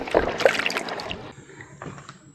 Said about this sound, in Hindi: कुछ ऐसे डिप करेंगे इनको पानी में जिससे ये साफ़ हो जाए एकदम।